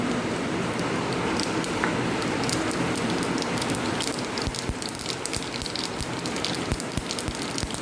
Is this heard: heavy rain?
yes